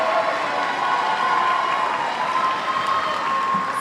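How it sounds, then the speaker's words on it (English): Graduation ceremony crowd at a charter high school applauding honored scholars, a sustained, even roar of clapping from a large audience with a faint tonal hum running beneath it. "Let's give our scholars a round of applause."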